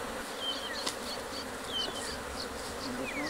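Soft, steady buzzing of many honey bees inside a hive, a low continuous drone with individual bees whining past, fairly quiet and close.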